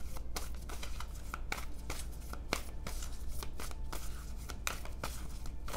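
Oracle cards being shuffled for a tarot reading, a close, steady run of quick papery riffles and flicks against a low hum, with no talking.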